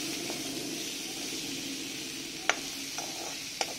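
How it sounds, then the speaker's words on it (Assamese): Spinach and spices frying in hot oil in a pan for Assamese-style spinach dal, a steady soft sizzle throughout with a few brief clinks of a stirring spoon near the end. "এইখিনি ভাজা হৈ গৈছে"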